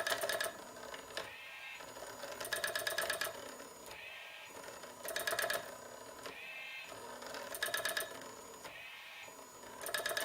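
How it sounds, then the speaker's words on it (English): A homemade single-needle relay printer tapping dots onto paper, a wire driven up and down by a small relay lever. It gives rapid clicking bursts that repeat regularly over a steady mechanical hum, moderately close. "A relay with a tiny lever moves a wire up and down, transferring ink from the reservoir to an underlying sheet of paper."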